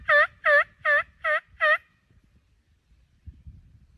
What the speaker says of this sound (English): One just gobbled way up this ridge.